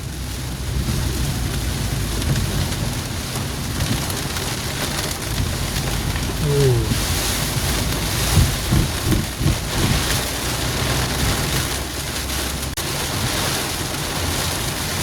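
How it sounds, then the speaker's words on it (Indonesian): Heavy rain pours steadily on a car during a road trip in Lebaran return traffic, a dense, constant wash of noise with a few low rumbling bumps midway. "Ya hujannya semakin deras ya."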